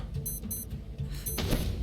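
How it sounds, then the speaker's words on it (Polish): In the Stranded Deep survival video game, an electronic beeping repeats in short tonal bursts that come faster and faster over a low background of game sound. The beeps are fairly faint and brief, with no talking. "Nie podoba mi się to pipczenie coraz szybsze."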